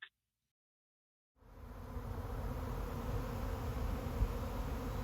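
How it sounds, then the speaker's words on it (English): A swarm of honey bees buzzing all around, a dense, steady drone that starts abruptly after a second and a half of silence and holds loud and unbroken to the end. "Standing in the midst of a swarm."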